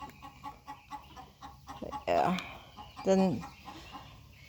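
On a spring farm with ducks, a rooster gives two short, clear clucks close by, and a person talks quietly over low outdoor background noise.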